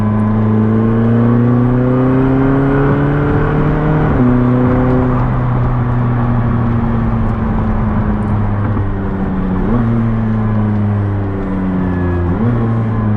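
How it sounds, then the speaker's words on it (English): A 2019 McLaren 600LT's engine drones loud and close, its pitch climbing steadily in gear and then jumping sharply with each downshift, three abrupt blips spread across a long continuous run. "and I'll downshift here just to demonstrate"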